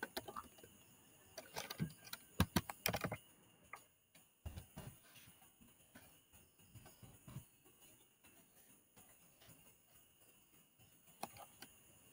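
Someone types on a computer keyboard, making faint, irregular clicking keystrokes with a denser burst of sharper taps early on, then sparse scattered clicks over a quiet room hum.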